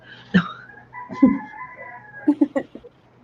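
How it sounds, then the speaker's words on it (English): A rooster crows loudly and close by, with a long drawn-out call followed by several shorter clucking notes. "it's been so long since I've heard those roosters"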